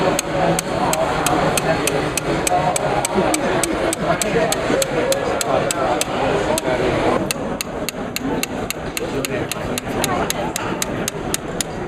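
Rapid, evenly spaced hammer strikes cutting teeth into a rasp blank on a small junk anvil, a loud close metallic tapping at a fast steady pace that continues throughout.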